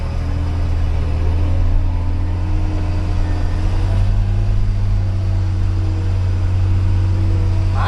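A John Deere 8560 tractor engine throttles, a loud, close, steady diesel drone with a low rumble that shifts slightly in pitch partway through.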